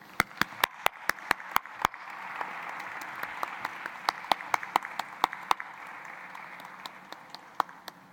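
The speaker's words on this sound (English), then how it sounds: "give them a huge round of applause" Sharp, close individual claps ring out at a conference award session for finalists and winners, with a softer, wider audience applause rising beneath them and thinning toward the end.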